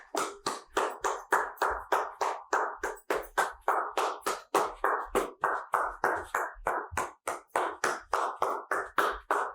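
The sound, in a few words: hands clapping while jogging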